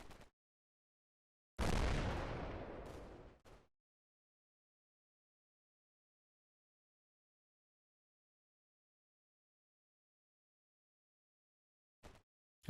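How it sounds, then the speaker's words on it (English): Small arms fire rattles in the Combat Mission: Black Sea war game as a loud, dense two-second ripple of overlapping shots that tails off, with a brief sharp pop at the start and end and silence between. "I hear a ripple of small arms fire"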